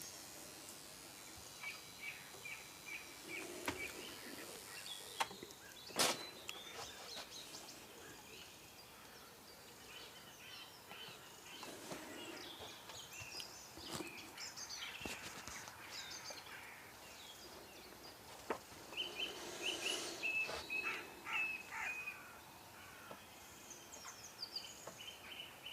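Garden birds, including coal tits and great tits, chirp and call around a feeder on a houseboat, with scattered near and distant notes over a quiet outdoor background.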